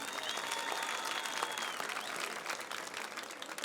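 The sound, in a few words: audience applause at a poetry event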